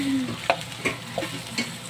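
Garlic frying in a generous amount of oil, a bright sizzle with a few distinct crackling pops across two seconds, close and with no talking.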